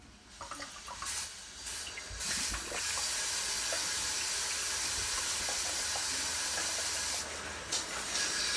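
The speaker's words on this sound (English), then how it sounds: "I'm now going to purge the cold water for the shower" Water hisses and sprays from the cold line of a Jayco Jay Flight 33RBTS travel trailer shower as it is purged for winterizing. A steady, close rush follows a few sputtering bursts at the start.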